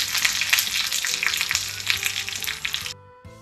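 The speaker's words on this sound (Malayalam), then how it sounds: "നമ്മൾ താളിച്ച് വെച്ചിരിക്കുന്ന കറിവേപ്പിലയൊക്കെ ചേർത്ത് കൊടുക്കാം. വറ്റൽമുളകും എല്ലാം കൂടെ ഉള്ളത്." Curry leaves and dried red chilies tempered in hot oil sizzle loudly as they are poured into a Kerala mango curry, a dense crackling hiss for about three seconds that cuts off abruptly, leaving a brief faint clatter.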